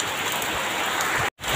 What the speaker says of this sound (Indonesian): malah hujan